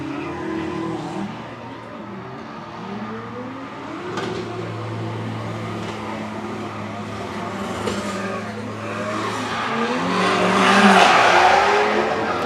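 A small Mazda Miata drifts in tandem at a live event in Mexico, engine droning steadily with tire squeal rising, loudest near the end, over constant crowd and track noise.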